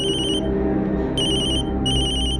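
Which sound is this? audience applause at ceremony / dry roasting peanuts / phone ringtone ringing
phone ringtone ringing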